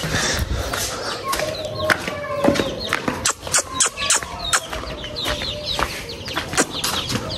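Several chickens cluck and cackle close by around a new wooden rabbit cage, with repeated overlapping calls throughout and some faint rustling beneath.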